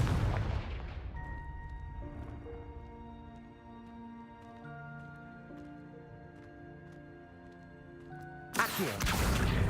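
Confringo explosive spell blasts in the video game Hogwarts Legacy: a heavy burst fading at the start, then a sudden loud explosion near the end, with sustained game music between them.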